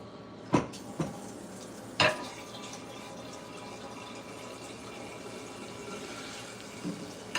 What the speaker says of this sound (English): I'm going to fill up my water bottle.